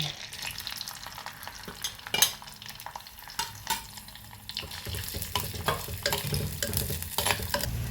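Ginger pieces sizzling and crackling in hot coconut oil with scattered sharp pops and stirring scrapes, moderately loud and close, building slightly in intensity.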